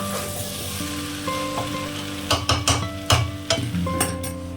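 Boiled rajma kidney beans frying with spices in a pan, a steady close sizzle broken by several sharp scraping stirs and clinks of a spoon against the pan, with no talking.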